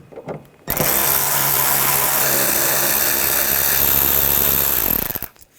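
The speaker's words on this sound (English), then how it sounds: "We're going to take these 3 screws out, use a T15 socket." A power tool spins a T15 socket to back out three screws on a 2013-2022 Buick Encore, one loud sustained whirring run of about four seconds after a brief quiet start, winding down at the end.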